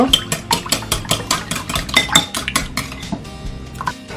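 Rapid, steady clinking of a utensil against a bowl, a quick rhythmic beating that slows slightly near the end.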